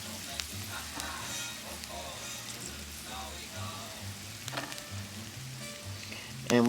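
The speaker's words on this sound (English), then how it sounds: "They are sizzling hot because of the olive oil" Stuffed mushrooms sizzle in hot olive oil, a steady close crackle and hiss like light rain that runs throughout, with faint background hum and a soft clunk at the end.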